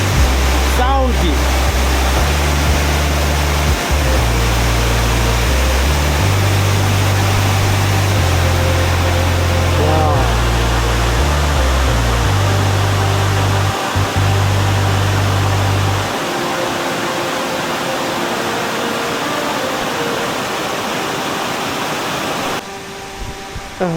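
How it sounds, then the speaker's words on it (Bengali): Rushing water pours at Bangjhiri, a frog-named waterfall on a jungle trail near Damtua, a loud continuous roar that drops slightly toward the end, with heavy low rumble mixed in. "এটাই তাহলে ব্যাং ঝর্ণা বা ব্যাংজিরি"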